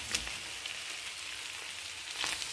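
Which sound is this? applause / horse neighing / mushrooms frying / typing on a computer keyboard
mushrooms frying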